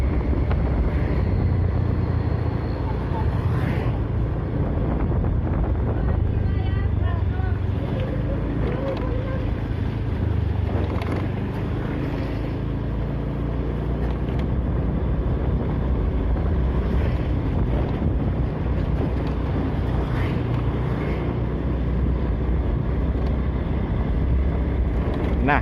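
A motorcycle rides along a road in Bangkalan, its engine a steady drone buried under heavy, constant wind buffeting on the microphone for the whole stretch.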